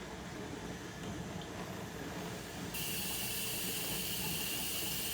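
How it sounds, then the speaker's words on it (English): Lukewarm tap water running into a sink for hand washing, a steady hiss that turns noticeably brighter and louder partway through as the flow increases, with no talking. "And then we are going to go ahead and turn on the water."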